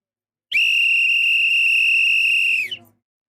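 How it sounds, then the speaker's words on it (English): A single long, loud, steady whistle blast held for about two seconds, then cut off, with faint background sounds beneath, suggesting a referee-style whistle blown in a room. "Matter of fact, where's my whistle?"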